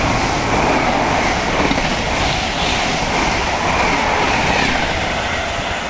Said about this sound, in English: here comes a through train about to pass through.